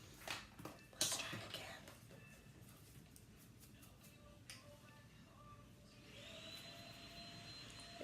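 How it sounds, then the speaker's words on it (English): A vacuum cleaner runs in another room during a home makeup session, a faint whine that grows steadier toward the end, under soft, close talking and a few clicks. "Ignore the vacuum in the background."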